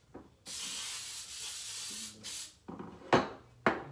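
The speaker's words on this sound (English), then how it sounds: "So I'm gonna spray this casserole dish." Cooking spray hisses from a can onto a casserole dish in a long burst close by, then several shorter bursts follow with brief pauses between them.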